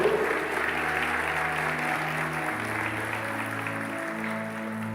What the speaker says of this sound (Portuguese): Você pode aplaudir mais uma vez esse Deus maravilhoso?